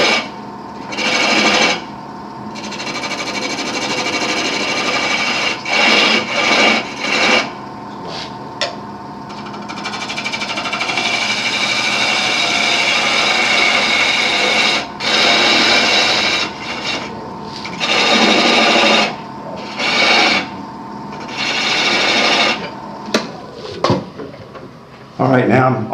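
Bowl gouge cutting into a multi-axis candlestick spinning on a wood lathe at a woodturners' club demo, giving steady scraping and shaving bursts that start and stop repeatedly, with talk in the room around the cuts.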